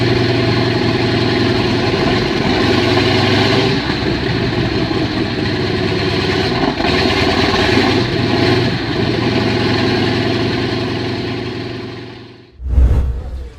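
A tank's Ford all-aluminum V8 engine runs with a steady, loud, close rumble for several seconds, then dips and bursts in a sharp rev near the end.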